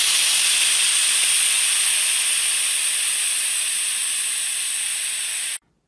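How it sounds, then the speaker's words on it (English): High-pressure air hisses steadily from a PCP valve in a 1/2 inch socket as the safety pin is activated. The release is loud and continuous for about five and a half seconds, then cuts off abruptly. "You can hear the release of air as the safety pin is activated."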